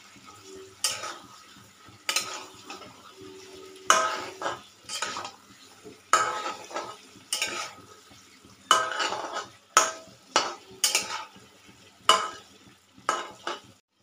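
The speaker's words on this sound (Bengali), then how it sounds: "এটাকে দেখো ভালো করে আমি নাড়াচাড়া করে" Aloo dum, a spiced potato curry, being stirred in a pan: a steady run of spoon scrapes and clinks against the metal, close and distinct, with a soft sizzle underneath and no talking.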